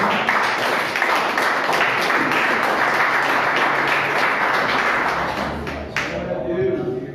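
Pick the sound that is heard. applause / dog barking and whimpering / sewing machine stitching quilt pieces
applause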